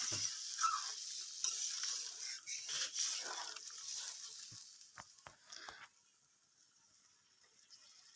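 Water poured onto meat cooking with Malabar spinach in a pan hisses and sizzles steadily, with scattered stirring taps and scrapes, then the frying settles to a faint, quieter simmer near the end.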